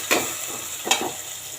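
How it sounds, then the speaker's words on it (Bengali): Sliced onions with a pinch of salt frying in hot oil until browned, a constant sizzle with two short louder crackles of stirring, close and without voices. "এদিকে আমার পেঁয়াজটা বেরেস্তা হতে থাক"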